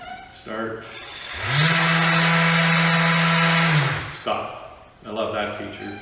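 A Festool ETS EC150/5 random orbit sander, unhooked from its vacuum, whirs up, holds a steady loud drone for about two and a half seconds, then spins down quickly, with someone talking before and after.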